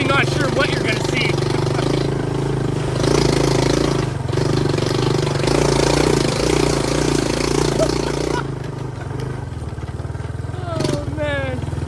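A Yamaha YTM200 three-wheeler's engine chugs and revs on a muddy trail ride, its steady mid-pitched drone rising and falling through gear changes close by, with a rider talking over it.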